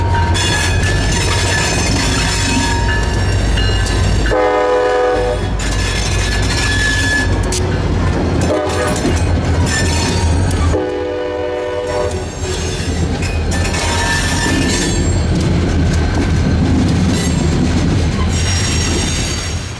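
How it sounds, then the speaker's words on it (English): Two SD40-3 diesel locomotives on the Aberdeen Carolina and Western rumble loudly nearby, one in Alstom grey paint. Horn blasts sound over the heavy engine drone, and the wheels clatter and squeal throughout. "Action began almost immediately, headed up by two of the railroad's SD40-3s"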